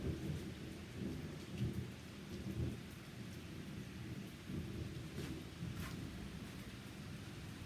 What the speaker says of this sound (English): Yeah, it's storming out there.